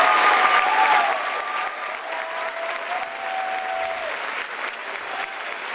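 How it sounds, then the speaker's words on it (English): A crowd in a gym at a Dieterich vs Patoka boys basketball game gives Bud Irvin a sustained round of applause, loud and steady throughout, with a faint tonal line running beneath. "There's the applause for Bud Irvin."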